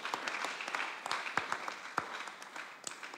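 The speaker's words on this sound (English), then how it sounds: "Please clap for yourself." Audience at a social entrepreneurship and philanthropy conference applauding themselves, a short spell of quiet, scattered clapping with some sharper individual claps standing out.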